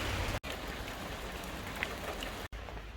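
Steady rain falls outside as a soft, even hiss of drops on surfaces, briefly cut out twice, with no voices.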